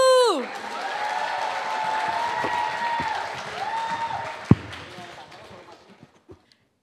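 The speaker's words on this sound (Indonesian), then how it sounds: "Ayo tepuk tangan dulu yang meriah kepada Bapak Mardigu." Applause from a campus seminar audience for a speaker, a swelling crowd clap beneath a drawn-out musical tone, fading out toward the end with a few scattered final claps and a sharp knock.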